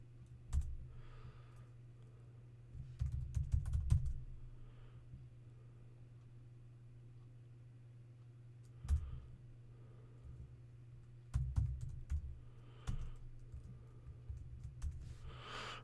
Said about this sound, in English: Type in address.